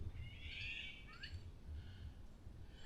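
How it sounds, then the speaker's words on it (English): A forest bird calling in the morning woods, a faint distant chirp and short sweeping call over a soft low rumble, with no talk. "one of the birds is in that direction"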